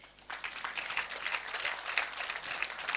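Students at Makerere University Business School applaud university staff, a dense sustained round of clapping from a large crowd that fills the room without pause.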